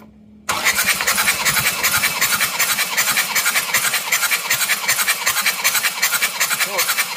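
An Isuzu Panther diesel engine cranks on its starter during a compression test, a loud, close, rapid rhythmic chugging that begins abruptly after a brief quiet moment and holds an even beat, with a squealing whine and some talk mixed in.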